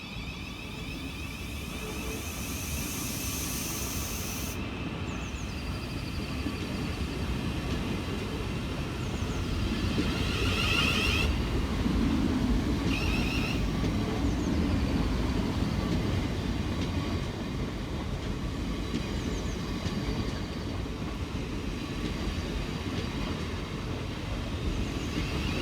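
Two Southeastern Class 707 electric units, 707003 and 707022, pull away from a station, a steady loud rumble and rising drive whine that builds and holds for a long stretch, with no talk.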